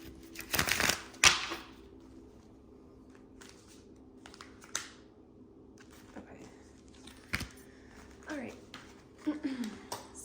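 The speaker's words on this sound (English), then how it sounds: "Let's shuffle one more for this last card." Tarot cards are shuffled up close, with a burst of riffling and slaps at the start followed by scattered softer card taps and rustles, and a voice speaks quietly at times.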